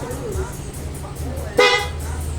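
A Yamaha Fazzio scooter's horn gives a single short, bright toot midway, heard close over a low steady hum while someone talks around it.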